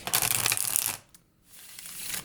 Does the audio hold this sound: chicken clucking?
no